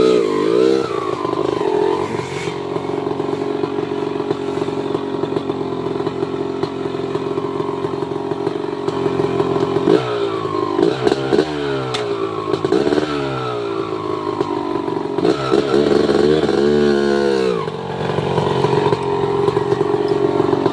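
Mio RX10 motorcycle engine revving hard, a loud close buzzing two-stroke whine climbing and dropping in repeated bursts over a constant idle.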